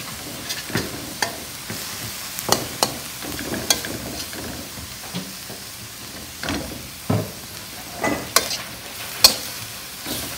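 Beef and chayote squash tops stir-fry in a hot pan under a steady sizzle, with repeated scraping and clacking of a utensil stirring at an irregular pace close by.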